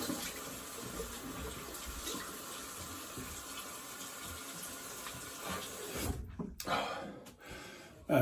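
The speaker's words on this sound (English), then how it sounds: "I'm just going to do a quick rinse." A shaving brush is rinsed under a running tap at a sink. Water flows in a steady, close hiss, then is briefly interrupted and sputters before running again near the end.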